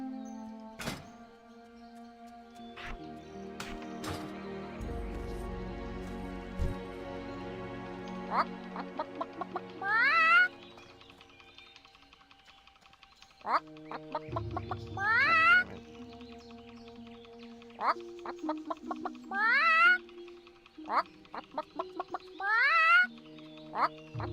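Chickens cluck in a video game, with short chirping calls repeated every few seconds over a backdrop of tonal, musical game sounds and occasional soft thumps.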